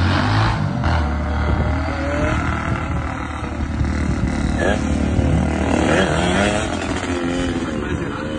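A motorcycle engine revs hard and continuously for a wheelie, loud and close, with voices talking over the steady engine roar.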